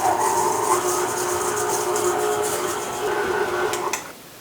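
A stand mixer beats butter with brown and granulated sugar, giving a steady, loud mechanical whir that runs throughout and cuts off near the end.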